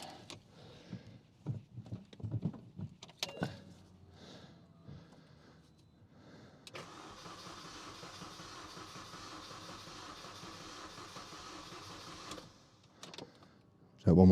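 New starter motor cranking the rebuilt engine of a Mini Cooper S R53, a steady whirring turnover lasting several seconds after some handling noises, without catching.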